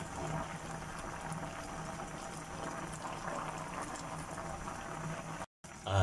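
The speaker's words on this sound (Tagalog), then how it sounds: "Kumukulo. Grabing kulo guys, oh." Ginataang tilapia, a tilapia stew in coconut milk, boils hard in a pot, giving a steady, dense bubbling hiss at close range with no talking, broken by a brief dropout near the end.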